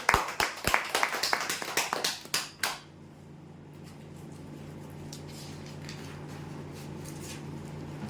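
An audience at a prize draw claps for the winners in a brief burst of loud, close applause that dies away within about three seconds, leaving a low steady hum of room noise.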